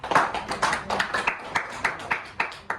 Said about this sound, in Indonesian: beri tepuk tangan buat Lutfiah